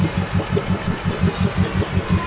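A four-wheel-drive vehicle idles in mud with barely any throttle while a winch pulls it out on a backcountry track: a close, steady low engine chug pulsing in an even rhythm, with no talking.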